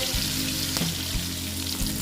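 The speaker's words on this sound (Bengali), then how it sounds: "তোমরা তো আওয়াজ পাচ্ছ কি ঠাক ঠুক খাচ্ছে" Boal fish frying in a pan for a mustard-poppy seed dish, a steady crackling sizzle with a few louder spatters and scraping knocks, close and continuous with no talking.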